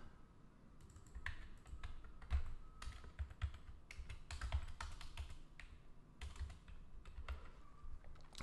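Steady computer keyboard typing while ActionScript 3 code is entered for a Flash pinball game, with dense irregular keystrokes carrying on throughout at moderate, close volume with no voices.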